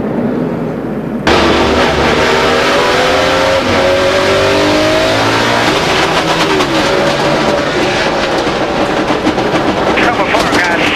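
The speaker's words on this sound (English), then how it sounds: "The drive shaft's under there somewhere flopping around." NASCAR stock car at the 2004 Subway 500 with a broken pinion and its drive shaft flopping loose underneath, a loud, rough mechanical drone with shifting engine tones running steadily throughout, with broadcast voices talking over it.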